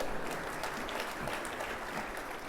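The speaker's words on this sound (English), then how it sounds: "Let's give him a nice round of applause." Audience at a county commissioner's State of the Precinct event giving a brief round of applause, a steady dense patter of clapping with a low murmur underneath.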